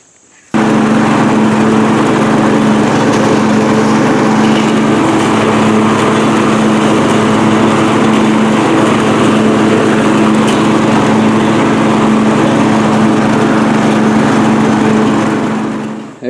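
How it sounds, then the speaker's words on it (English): A riding mower cuts grass in a steady, close, loud drone with a strong low engine hum that runs unbroken for the whole stretch after a quiet opening moment. "I'm going to get it mowed down a little bit more with the riding mower, as short as possible"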